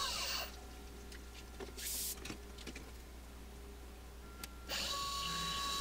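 A milling machine cuts a quarter-inch radius on aluminum dice: a steady motor hum, broken by sharp, bright bursts of cutting noise at the start, around the two-second mark, and again near the end.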